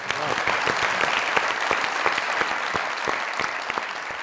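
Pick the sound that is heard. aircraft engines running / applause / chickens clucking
applause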